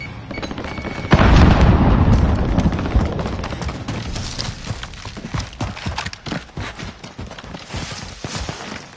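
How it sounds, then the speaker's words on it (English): A grenade detonates in a PS4 video game with a sudden heavy boom about a second in, followed by a long rumbling decay scattered with debris-like crackles and thuds. "Grenade out!"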